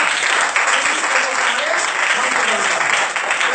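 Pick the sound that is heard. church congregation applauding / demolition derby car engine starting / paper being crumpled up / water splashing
church congregation applauding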